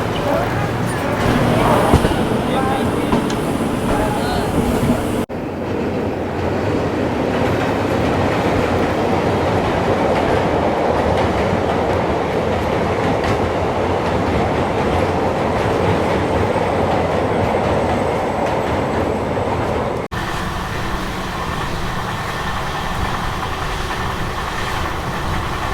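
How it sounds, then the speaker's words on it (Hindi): An inaugural special express train pulls out of Ujjain Junction railway station, its steady rolling rumble and wheel clatter filling the whole stretch, loud and close, with the tone shifting slightly as it gathers pace. "अपनी इनॉग्रल स्पेशल ट्रेन डिपार्ट कर रही है उज्जैन जंक्शन रेलवे स्टेशन से"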